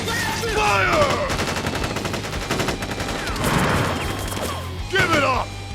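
Troops fire a volley of gunfire in the Crisis Core Final Fantasy VII video game, heard as dense rapid bursts of shots mixed with game music and clatter, with voices shouting briefly between the shots.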